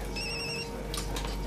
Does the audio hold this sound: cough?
no